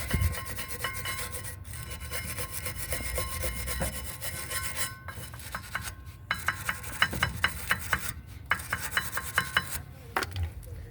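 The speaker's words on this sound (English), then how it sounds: "get a wire brush or something and clean in between these grooves" A wire brush scrubs the grooves of a rear brake bracket on a 2013-2018 Nissan Altima 2.5L, giving a close, gritty rasping that turns into sharp, rhythmic back-and-forth strokes in the second half.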